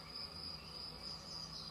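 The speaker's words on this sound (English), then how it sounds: "I was thinking of those cicadas." Desert cicadas buzzing in a steady, continuous high-pitched drone with an even rhythmic pulse, close and moderately loud, with no voices.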